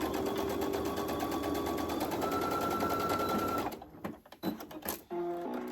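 A sewing machine runs steadily, stitching a quarter-inch seam to close the end of a fabric circle for a small wristlet pouch, then stops abruptly, leaving a few clicks and handling noises.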